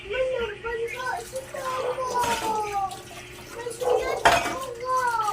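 Running water splashes over food being washed in a kitchen sink for a simple dessert, with dishes and utensils clinking. Faint voices murmur in the background.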